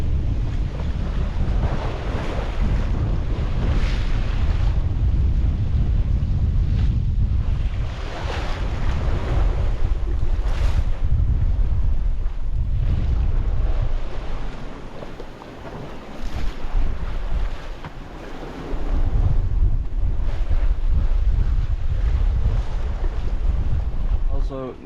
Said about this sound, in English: The waves are sometimes really big.